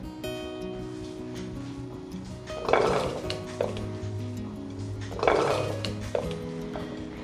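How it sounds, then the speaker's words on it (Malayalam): Chopped pumpkin pieces tumble into a pressure cooker in two clattering bursts, each followed by a lighter knock of hard pieces against metal, close by and alone over a low background hum. "അരിഞ്ഞു വെച്ചിരിക്കുന്ന മത്തൻ കഷ്ണങ്ങൾ കുക്കറിലേക്ക് ഇട്ട് കൊടുക്കാം"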